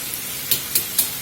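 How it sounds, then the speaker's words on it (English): Large buttermilk-battered chicken drumsticks fry in hot oil with a continuous bubbling sizzle, broken by three quick crackling spatters in close succession. "We've been frying about 5 minutes"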